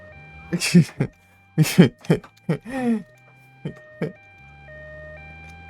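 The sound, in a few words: ambulance siren in the video game GTA Vice City Stories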